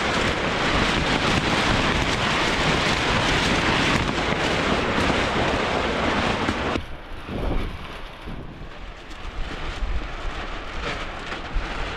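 Heavy storm rain and wind rush over a sailboat in a dense, loud hiss, then ease off into softer patter with a few low thuds.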